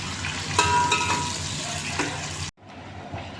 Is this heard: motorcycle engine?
no